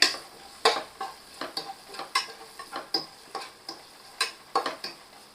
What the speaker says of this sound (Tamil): ஒரு அஞ்சு பச்சை மிளகாய் உடச்சி ஆட் பண்ணிக்கிறேன்